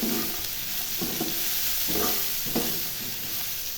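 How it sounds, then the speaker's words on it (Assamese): Pointed gourd and small potatoes fry in a pan with a steady close sizzle, broken by a few sharper scraping stirs of a spatula at irregular intervals. "আনফালে মই একেখন পেনতে এয়া পটল আৰু সৰু আলুগুটি এনেকৈ ভাজিছোঁ"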